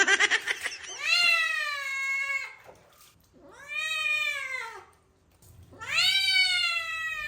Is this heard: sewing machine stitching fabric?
no